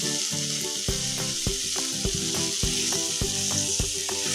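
Onion, green chili and whole spices, including cinnamon, cardamom, cloves, cashews and bay leaf, sizzle loudly and steadily in a pan, with rhythmic stirring clanks about every half second close up.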